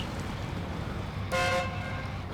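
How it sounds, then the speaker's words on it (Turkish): Truck horn in the off-road driving game SnowRunner gives a single short, bright toot of about a quarter second over a low rumbling engine background, with no talking during the clip. "Kornası güzel."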